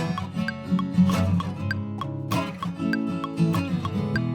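Two looped guitar parts, one panned hard left and one hard right, play together in an experimental pop arrangement built in Ableton. They make a steady, busy layered pattern of plucked notes with recurring bright accents and no voice.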